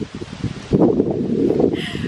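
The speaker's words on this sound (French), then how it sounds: "Et là il y a du vent, je ne sais pas si vous m'entendez." Wind gusts outdoors buffet the microphone, a soft rustle at first that swells into a steady, loud rumbling roar for most of the short stretch, with no talking.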